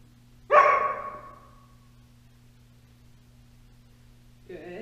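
A single loud, close dog bark that rings out briefly against a steady electrical hum, followed by a long quiet stretch before a faint sound at the very end.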